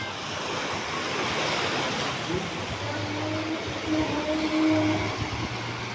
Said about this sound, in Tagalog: Yung itong agos na to galing to sa sapa doon.